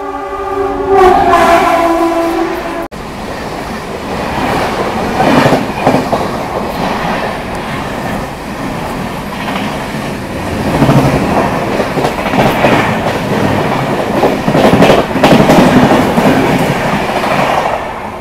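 The Howrah–New Delhi Rajdhani Express roars past at speed, loud and close, with a rushing rumble and rhythmic clatter of wheels over rail joints throughout; a horn sounds briefly at the start.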